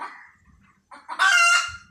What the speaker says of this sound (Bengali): মুরগি চিল্লাচ্ছে কেন দেখে আসো